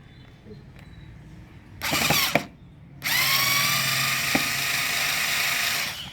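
A cordless power drill backs a screw out of a solar power conditioning unit, giving a short whirring burst and then a longer, steady, close whine that winds down at the end.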